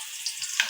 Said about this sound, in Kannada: ನೆಕ್ಸ್ಟ್ ಸ್ವಲ್ಪ ಈರುಳ್ಳಿ. ಸೊ ಇದು ಸ್ವಲ್ಪ ಫ್ರೈ ಆಗಲಿ.